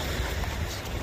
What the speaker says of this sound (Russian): Рада, смотри, какие волны, передай всю эту красоту, елки-палки.